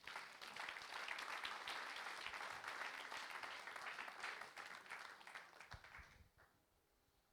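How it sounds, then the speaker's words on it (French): Steady, sustained applause from a church congregation, a dense patter of many hands at moderate distance that holds for several seconds and then fades away. "Acclame-le encore."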